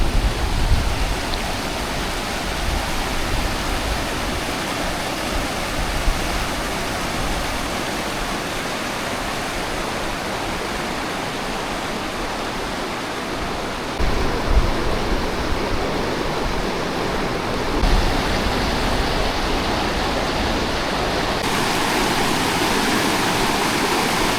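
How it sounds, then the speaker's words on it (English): Two rivers meeting in the Rio Grande Gorge, a steady rushing wash of moving water, close and even throughout, with no voices. "The point where both rivers come together."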